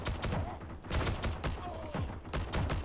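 STG-44 assault rifle firing 7.92 mm rounds in Heroes and Generals, several quick bursts and single cracks at moderate distance over a busy battlefield backdrop.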